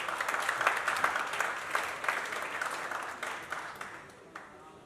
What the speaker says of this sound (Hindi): एक बार स्वागत करो गगन सर का तालियों से।